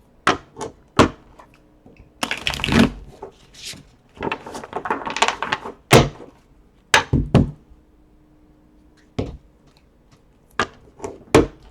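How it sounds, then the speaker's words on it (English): Tarot cards being shuffled in several quick bursts, with sharp taps and soft thumps between them, close up and with no talking. "I was told 6 shuffles."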